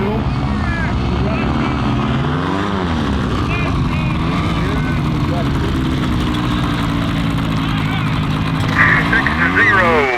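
A Chinook light aircraft flies at a short-runway competition, its steady propeller and engine drone running throughout, rising and falling slightly in pitch as it passes, with a commentator talking over it.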